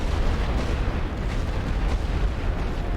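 Artillery batteries firing in The Great War: Western Front, a dense, continuous rumble of booming shots and distant explosions layered together at steady loudness without pauses.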